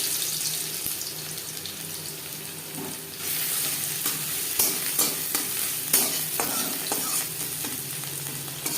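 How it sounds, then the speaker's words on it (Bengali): Dried red chillies and garlic fry in mustard oil in a pan, a steady close sizzle broken by scraping stirring clicks and clatters, with no talking. "লঙ্কা ভেজে নেওয়ার পর দিয়ে দেবো রসুন।"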